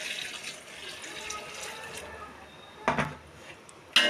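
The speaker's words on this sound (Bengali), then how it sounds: "একটু গরম জল দিয়ে দিচ্ছি।" Hot water is poured into a pot of mutton curry, giving a close, continuous splashing pour that ends with a couple of sharp clinks.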